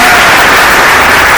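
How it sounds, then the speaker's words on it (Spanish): Church congregation applauding in praise, a dense, loud, steady wash of clapping that fills the whole moment with no pause. "Denle fuerte el aplauso al Señor, porque eso es algo extraordinario."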